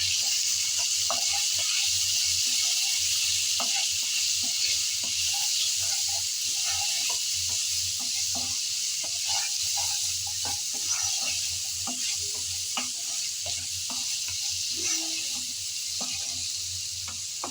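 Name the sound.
spiced potatoes being stirred and fried in a pan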